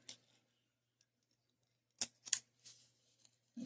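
Leather for a rat rod seat is trimmed of its excess, heard as a few quiet, sharp scissor snips clustered in the second half, close by, with near silence between them.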